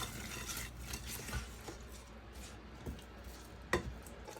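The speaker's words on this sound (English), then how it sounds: "I'll stir all the ingredients together" A spoon stirring raspberries and sauce ingredients in a pot, producing soft scraping and wet squishing with a few light knocks against the pot, quiet and close.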